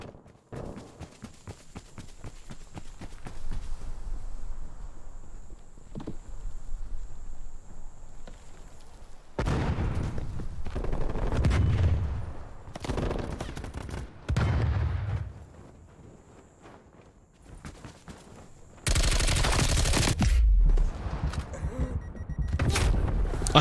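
Gunfire in the video game Call of Duty Black Ops Cold War multiplayer on PS5, heard as loud bursts of shots that come and go in several clusters over a steady background of game sound.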